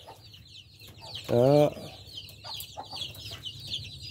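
Chickens clucking at a chicken farm around feeding time, a steady chorus of close clucks and chatter, with one louder drawn-out call standing out briefly and a man's short spoken word mixed in.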